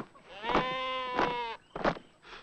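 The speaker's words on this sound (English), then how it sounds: "It's a sheep." A sheep bleats three times, close by, in long wavering calls with short pauses between them. The bleats sound loud and plaintive against a faint background.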